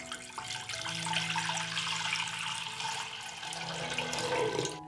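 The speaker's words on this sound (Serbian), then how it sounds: "Moj ekspres lonac je zapremljen na 6 litara i sipaću litar vode." A litre of water pours steadily into a 6-litre pressure cooker, a continuous splashing rush that stays fairly even and quiet throughout, with no talking.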